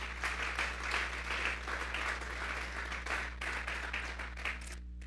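Congregation clapping in a church, a continuous dense patter of applause at moderate level with a low steady hum beneath, ending abruptly.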